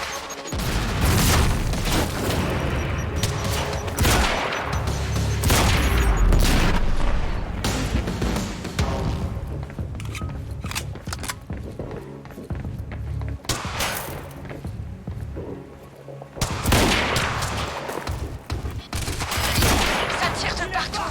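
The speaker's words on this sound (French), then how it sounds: "Ça tire de partout." Dense bursts of rapid gunfire and heavy booms from a Quantum Break firefight, loud and nearly continuous with brief lulls.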